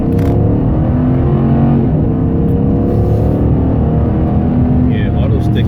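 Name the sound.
2006 Dodge Charger R/T 5.7L HEMI accelerating in first gear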